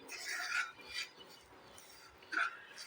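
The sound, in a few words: coconut powder roasted and stirred with semolina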